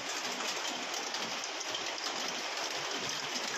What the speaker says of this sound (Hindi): बारिश आवाज़ सुन के आपको आइडिया मिल रहा होगा कि कितना तेज बारिश हो रही है